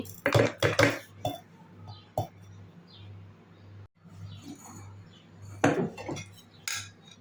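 Ground ginger paste spooned from a mixer jar into a larger mixer jar while pickle is made, heard as several sharp metallic clinks and taps with quieter scraping in between.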